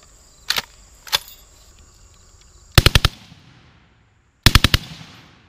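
Belt-fed machine gun firing short bursts outdoors: two single shots, then two rapid multi-round bursts of about four to five shots each, loud and close with echoing tails between.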